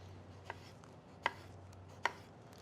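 Knife chopping eggplant into roughly 1-inch cubes on a board: three sharp, separate cuts spaced about a second apart, close and clear over a low steady hum, with no talking.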